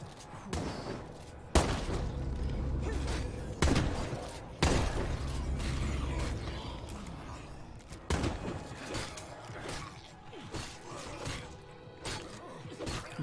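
Rapid bursts of gunfire in the zombie survival game State of Decay 2, loud volleys with sharp impacts and crashes, spaced through the stretch with a few lulls, no speech over them.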